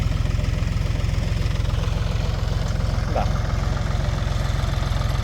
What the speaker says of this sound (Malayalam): ഇവിടെ ട്രാക്ടർ തന്നെയാണ് വരമ്പെല്ലാം എടുത്തുകൊണ്ട് ഇരിക്കുന്നത്